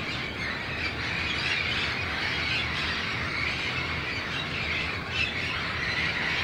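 Parrots in Guadalajara, Mexico give off a dense, continuous chorus of harsh squawks and squeals, several birds calling at once from nearby with no talking.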